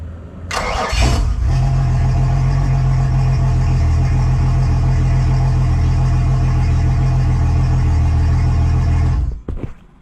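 A Yamaha F225 four-stroke outboard motor, just repaired after a blown head gasket, cranks and fires up, then runs loud and steady at idle close by for several seconds before being shut off.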